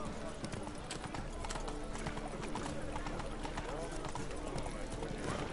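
Roach the horse trots in The Witcher 3, with steady, rhythmic hoof clip-clops under a faint neigh and spoken voices over game ambience.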